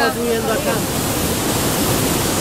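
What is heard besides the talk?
rising river water rushing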